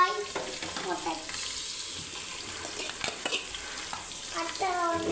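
Onion and chillies frying in a pan of hot oil for egg biryani, a steady close sizzle with occasional stirring scrapes and clinks from the utensil.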